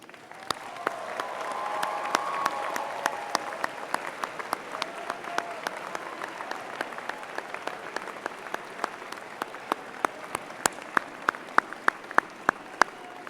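Sustained audience applause at a university spring convocation for a graduating class: a dense, steady wash of many hands clapping throughout, with individual sharp claps popping out near and loud, especially toward the end.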